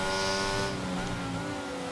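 F1 22 race car in the video game sliding into a slight drift in wet conditions, a loud continuous high-revving engine whine with a brief hiss of spray or tire noise, steady and close throughout.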